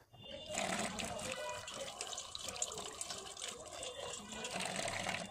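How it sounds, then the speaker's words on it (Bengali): Running water splashing as jujube fruits are washed for a spicy Bengali jujube mash, a continuous close rushing gush with faint background noise throughout. "তারপর একটু ভালো করে এটাকে ধুয়ে নিতে হবে।"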